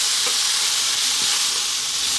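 Ginger and garlic stir-frying over high heat for Chinese beef and broccoli, a loud, close, continuous sizzle with brief stirring scrapes.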